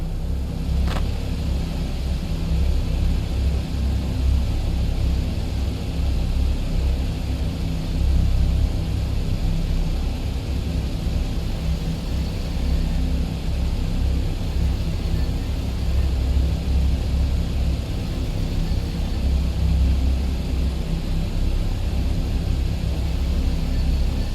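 A simulated airliner rolls down the runway for takeoff in Flight Simulator, its engines making a steady, loud, continuous rumble and roar with no break or voices.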